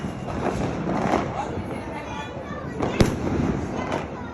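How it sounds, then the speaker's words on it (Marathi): Firecrackers and fireworks going off outdoors, with a steady crackling and popping bed, several sharper bangs and one loud close crack, while people talk nearby. "उडणार बॉम्ब"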